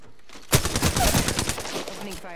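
Burst of rapid automatic gunfire in a video game, a loud, dense rattle of shots that begins abruptly and keeps going to the end.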